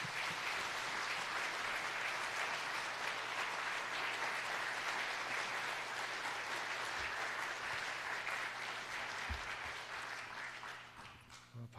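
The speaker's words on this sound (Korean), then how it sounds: "나오실 때 우리 큰 박수로 모시겠습니다" Sustained congregation applause at a Sunday evening church service welcoming the guest speaker, a steady, even wash of many clapping hands lasting nearly twelve seconds, moderately distant.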